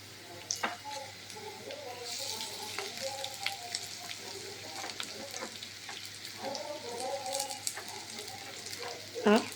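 Onions sizzle in a pan with ginger paste and green chillies, a soft continuous frying hiss marked by light scraping stirs and a faint voice in the background.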